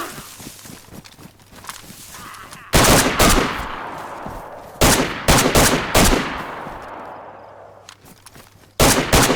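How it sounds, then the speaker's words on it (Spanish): Gunfire in the zombie survival game DayZ: loud, sharp shots crack out singly and in quick clusters over quieter background noise, with no talking. "al fallar el primer disparo, ahora él está prevenido y tengo que pelear con los zombies"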